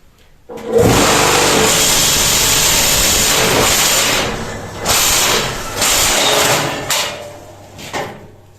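A concrete block-making machine runs loud and close with a harsh, hissing mechanical roar that holds steady for several seconds, then breaks into shorter bursts and clunks before going quiet.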